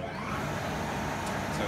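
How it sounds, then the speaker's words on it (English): A Kaiser air compressor running under load, a dense steady mechanical roar with a broad hiss, constant and close with no breaks. "So the Kaiser compressor is now running"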